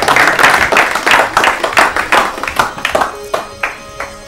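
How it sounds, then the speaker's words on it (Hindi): Studio audience at an Urdu literary quiz show claps in a steady round of applause, the dense clapping thinning out toward the end while a voice begins speaking. "तालियां बजाइए इनके लिए।"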